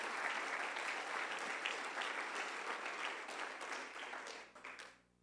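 Church congregation applauding, a steady wash of many hands clapping at moderate distance, sustained evenly before tapering off abruptly at the end.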